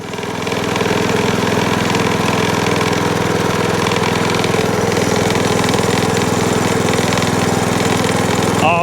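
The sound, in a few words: Hayter Hayterette lawn mower engine running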